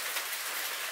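Steady rain pours outside a small hut near the Salton waterfall, a dense, even hiss close by with no voices.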